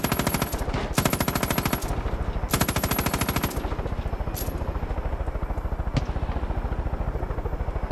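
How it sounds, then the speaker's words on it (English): Rapid automatic gunfire from the shooter game Far Cry 5 comes in long sustained bursts of evenly spaced shots. The shots are loud and close over a constant droning engine hum, and a few brief pauses break the firing. "I'm just shooting at everything."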